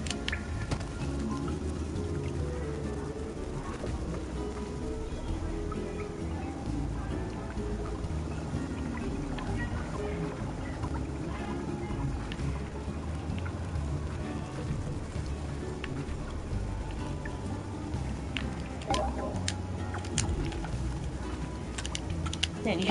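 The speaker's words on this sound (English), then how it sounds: "You hear that rain too?" Steady rain patters without pause in a video game, a continuous soft hiss with scattered drop ticks mixed with keyboard-like clicking and occasional voices.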